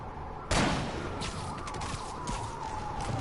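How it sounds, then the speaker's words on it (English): A wailing ambulance siren from the video game Shadow of War, with a sharp burst near the start followed by a continuous, steady electronic tone that holds loud throughout, no speech over it. "Who shoots at an ambulance?"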